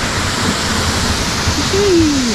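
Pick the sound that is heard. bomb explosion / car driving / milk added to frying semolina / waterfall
waterfall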